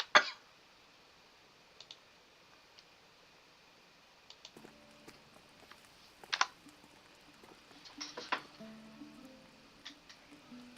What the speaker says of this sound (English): It's too much clicking for me.